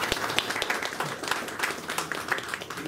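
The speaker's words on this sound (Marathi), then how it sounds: "एकदा टाळ्या वाजवत." Audience members at the inauguration ceremony of an eye camp marking an eye-care service's 40th anniversary clap together in a short, dense round of applause, heard from inside the crowd.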